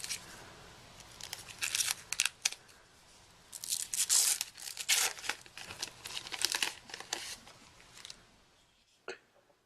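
Plastic wrapping on a refurbished second-generation Apple iPod nano is torn and crumpled in close, irregular bursts of crinkling and ripping, with a person speaking quietly around it.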